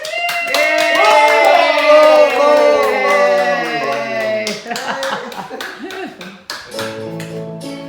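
Sharp hand claps sound close by, mixed with a prominent voice that sings or speaks over them, and the clapping continues as the voice fades.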